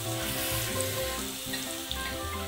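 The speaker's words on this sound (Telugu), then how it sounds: "ఇక్కడ రొయ్యలు అయితే ఉడుకుతూ ఉన్నాయి, ఉడుకుబట్టినాయి. మసాలా అయితే బాగా వేగిపోయింది." Prawn curry in well-fried masala bubbling and sizzling in a pan, with a steady frying hiss and low rolling bubbles throughout, no voices.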